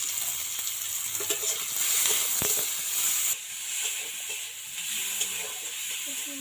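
Chopped onion and tomato with green chili frying in a pan, a steady hiss and sizzle with occasional stirring scrapes, close and fairly quiet.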